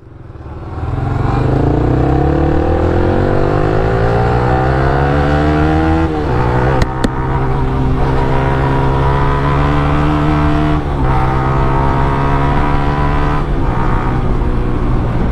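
A car accelerates hard through city traffic, its engine droning loud and close with rising pitch, easing at a shift midway and then climbing again.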